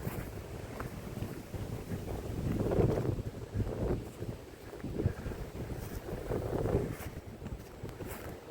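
Wind buffets the microphone on an Iron Age hill fort in Wales, a steady low rumble with gusty swells, heard alone.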